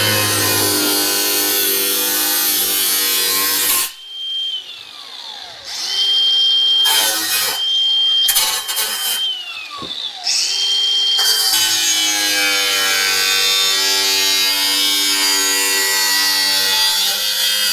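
A cut-off wheel bites into the sheet-metal fender of a '57 Chevy, a loud close grinding whine that starts and stops in several short bursts with spinning-down pauses between, framed by steady workshop noise.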